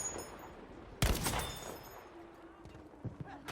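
Gunfire from the Battlefield 1 / Battlefield V shooter game: a sudden loud burst of several shots in quick succession, followed by scattered fainter distant shots under a low background rumble.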